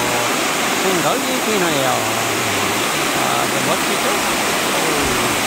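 Loud, steady roar of rushing falling water at Geumnyong Falls, the eleventh of the twelve falls on Seongchisan in Geumsan, South Korea, while someone talks over it.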